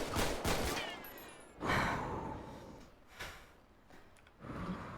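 Gunfire in a GTA roleplay video game, a few sharp, loud shots with ringing tails spread across the moment, mixed with breathy gasps and sighs.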